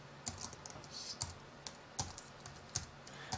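Sparse keystrokes tapped on a computer keyboard as a short field name is typed, a few isolated clicks with short gaps, close and fairly quiet.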